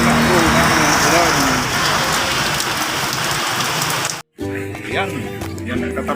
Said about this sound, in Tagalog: Nabutan na ako ng ulan.